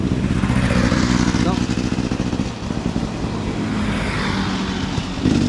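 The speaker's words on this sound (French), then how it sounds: "Là j'entends une moto" A motorcycle, likely an off-road motocross bike, passes at a distance in dry Spanish countryside, its engine rising and fading behind someone speaking close by.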